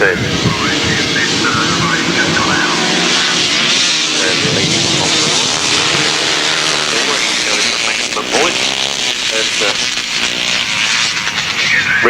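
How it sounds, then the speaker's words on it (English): Grasstrack racing motorcycles rev loudly together on the start line at a 1993 race meeting, a dense, continuous roar close by with a commentator talking over it. "Revving up on the line then for race number 10."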